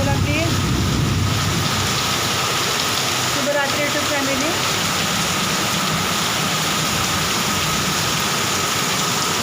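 Heavy night rain falls steadily outdoors, a dense continuous hiss and patter on surfaces with a low rumbling undertone, loud and unbroken throughout.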